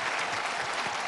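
A burst of dense audience applause at a singing show finale, steady and full for the whole moment with a faint crowd murmur beneath.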